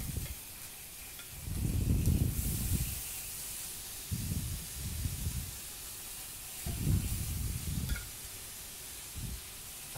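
Marinated gambas with lemon juice hit a hot frying pan and sizzle in loud hissing bursts that rise and fall several times, with no talking.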